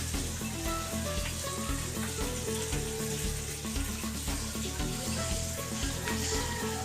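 Snakehead fish fries in a pan with a steady, bubbling sizzle that stays even and continuous from start to finish, set against a faint tonal background and no talk.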